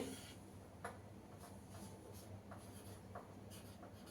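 Pen strokes scratch across a board during a biology lecture, a steady faint rubbing with a few sharper taps, alone without talk.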